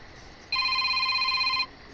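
A telephone rings with one sustained electronic trill of about a second, clear and close over a quiet room, then stops.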